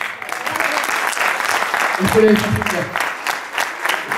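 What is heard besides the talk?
audience applause after magic trick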